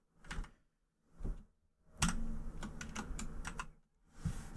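Quick bursts of computer keyboard typing, close and fairly quiet, with short pauses between clusters of rapid keystrokes and a denser run in the middle.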